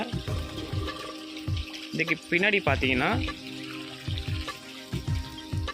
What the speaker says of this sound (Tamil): மலைக்கு மேலேருந்து வரக்கூடிய சுனை நீர் தான்